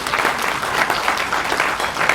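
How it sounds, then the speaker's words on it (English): A crowd at the 2025 Wyoming Reagan Day Dinner breaks into brisk applause, many hands clapping with a slightly pulsing rhythm, loud and close, with no talk over it. "let's give God a huge applause for that"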